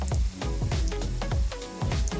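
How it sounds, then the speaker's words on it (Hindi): A sauce made with beef stock for a beef and pineapple dish boils in a pan up close, giving a steady sizzle and bubbling with repeated short bursts. "अब हम अपने सॉस का उबाला दिला के 3 मिनट के लिए पकाएंगे।"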